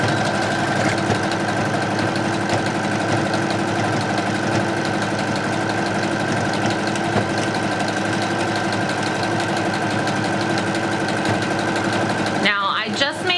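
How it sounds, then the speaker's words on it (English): Sewing machine zigzag stitching fleece for ear warmers, scarf and gloves, a steady close mechanical whirr with a rapid needle rhythm that runs continuously, then halts abruptly near the end. "we're going to do a zigzag stitch all the way down"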